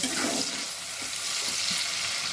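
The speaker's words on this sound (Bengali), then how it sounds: "টমেটো আর পেঁয়াজ একসাথে বেশ কিছুক্ষণ ভেজে নেব" Tomato and onion fry together in a pan for a Bengali duck egg curry, giving a steady, close sizzle with faint stirring scrapes throughout and no voices.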